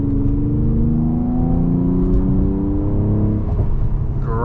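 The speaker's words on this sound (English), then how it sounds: "we have a chance to accelerate here" A 2022 Mercedes-AMG CLS 53 accelerates, its engine note rising in a steady loud drone heard from inside the cabin, with a faint shift near the end.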